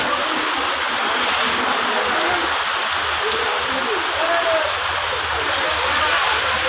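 Dense, steady hiss of heavy rain falling on surfaces at a busy cattle market, constant and enveloping with no break, loud and close throughout.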